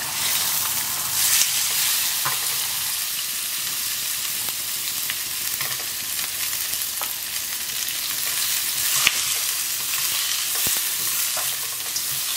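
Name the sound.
sliced onions frying in butter and oil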